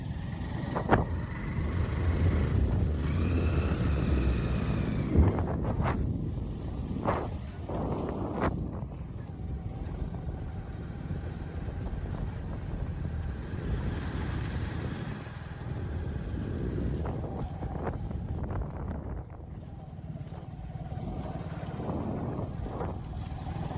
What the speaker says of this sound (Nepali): एकदम चितवनको एकदम तातो हावा आइरहेको छ यहाँ